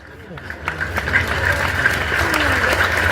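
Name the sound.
audience applause at religious gathering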